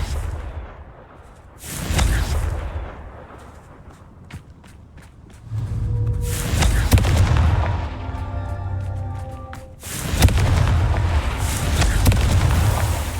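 Confringo spell explosions in Hogwarts Legacy: several loud, booming fiery blasts with crackling debris and rumbling tails, separated by quieter gaps, close and without talk.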